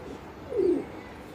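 A black pigeon gives one short, soft coo, close by and standing out clearly against quiet background noise.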